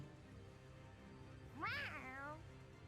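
A cat in the video game Tales of Xillia 2 gives a single rising-then-falling meow, clear and fairly close over a quiet game background hum.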